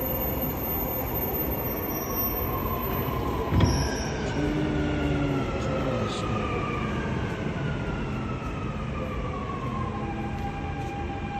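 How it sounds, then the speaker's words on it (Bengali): A Dubai Metro train pulls into the station with a long, drawn-out wheel squeal rising and falling over a rumbling rolling roar. There is a brief thump partway through, and the squeal stays prominent throughout. "ট্রেন চলে আসবে"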